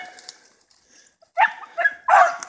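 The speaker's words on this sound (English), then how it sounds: "My 5 month old street puppy just jumped a rabbit out of that." A five-month-old beagle puppy bays while chasing a rabbit outdoors, giving a few short yelping bursts close by, the last and loudest held a bit longer, with quiet gaps between.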